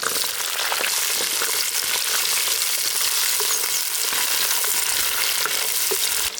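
Onion, garlic and dried red chillies frying in hot oil in a village-style kitchen: a dense, loud, unbroken sizzle with soft stirring scrapes, close up and without talk.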